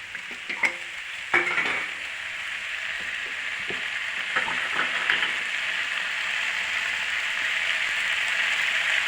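Tomatoes frying in a pan while being tempered for a potato and pea curry, a steady close sizzle with a few scraping stirs near the start.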